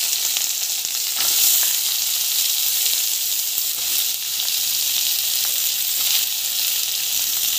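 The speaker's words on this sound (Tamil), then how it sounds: "வெங்காயம், பூண்டு, மிளகாய் மூணுக்கு வந்து போட்டு வதக்கலாம்." Onion, garlic and chilli sautéing in an oil pan for a South Indian onion tomato chutney, giving a steady, fairly loud broadband sizzle with a few stirring scrapes and no voices.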